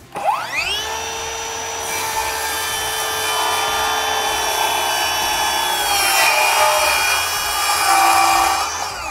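A Ryobi 18V ONE+ HP brushless circular saw (RCS18X-0) spins up to a loud, high whine, then cuts through a board with a sustained, close, slightly shifting pitch and a grittier tone toward the end.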